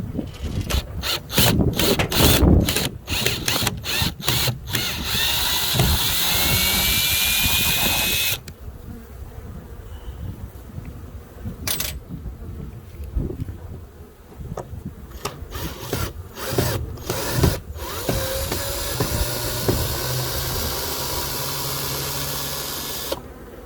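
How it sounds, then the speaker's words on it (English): Screws are backed out with a ratcheting tool during the hiving of a bee swarm, sharp repeated clicks and bursts over a steady buzzing of bees outdoors, close and loud. "So I'm going to take these screws out."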